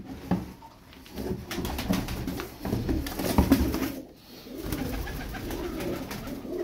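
Female tumbler pigeons coo in a loft, several birds calling close by with soft overlapping throaty coos throughout.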